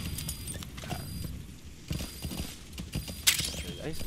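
Horse hooves clip-clop on the ground in Metal Gear Solid 5: The Phantom Pain, a steady moderate trot heard beneath someone talking and other game sounds.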